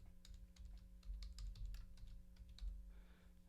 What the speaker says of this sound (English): you're going to type in your password